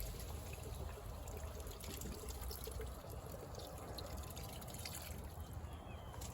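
Chicken stock streams steadily into a paella pan of chicken and chorizo on a Cadac barbecue, a continuous soft pouring and trickling of liquid against a faint outdoor hiss.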